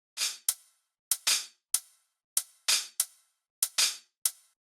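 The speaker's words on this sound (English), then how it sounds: "One's an open hi-hat, one's a closed one," Hi-hat pattern mixing longer open hissing strikes with short, tight closed ticks in a steady repeating groove, crisp and isolated.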